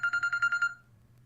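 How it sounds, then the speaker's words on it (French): Mobile phone ringtone chiming in a quick run of about seven bright electronic beeps, then cutting off, fairly quiet over a low background hum. "j'ai oublié de baisser le niveau de sonnerie de mon téléphone, désolé"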